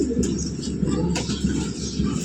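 A racing pigeon coos close by, with a run of low, throaty, repeated coos over faint background noise.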